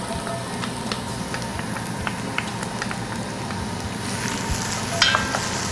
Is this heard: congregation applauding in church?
no